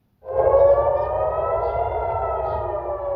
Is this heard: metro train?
no